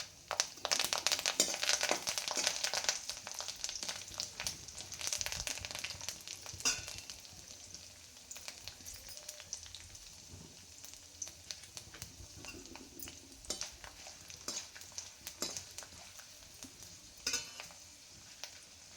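Curry leaves frying in hot oil for a bitter gourd curry, sharp crackling pops and spitting bursts loudest at first, then settling into a quieter uneven sizzle with scattered crackles, no talk.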